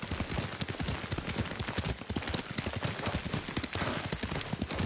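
A horse's hooves clip-clop in a quick, steady rhythm during riding in the game Ghost of Tsushima, loud and continuous throughout with no talk over it.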